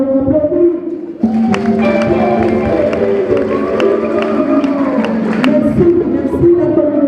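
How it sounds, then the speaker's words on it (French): Audience at a school ceremony claps and cheers, the applause swelling loudly after a brief lead-in and holding as a dense, steady patter of hands with some voices mixed in. "En tout cas, nous vous applaudissons."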